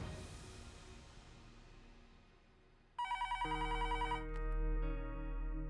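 A telephone rings while someone calls a hotel, a fading whoosh giving way to a loud electronic ringing tone in quick repeated pulses, then a sustained ring, close and alone.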